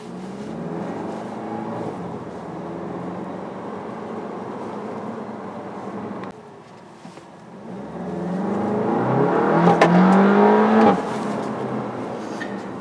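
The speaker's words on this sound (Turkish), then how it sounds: "vites değiştirdiği zaman çok ayrı bir ses çıkartıyor" A 2017 Seat Leon Cupra engine drones steadily, dips briefly, then revs up louder and higher before easing off, like acceleration through a gear change.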